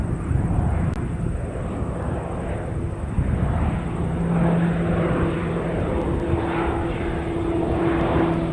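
A flying doctor service propeller aircraft, already airborne, drones steadily at moderate distance with a continuous engine hum and a faint high whine above it, no talk over it.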